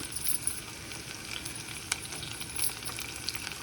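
Curry leaves and chopped garlic frying with onions in a pan for a Telangana corn-seed dish, a steady crackling sizzle with a few sharper pops, close up and without talk.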